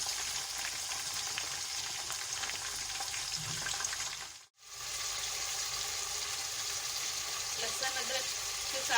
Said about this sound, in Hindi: लहसुन अदरक के साथ हमने भून लिया है चिकन को।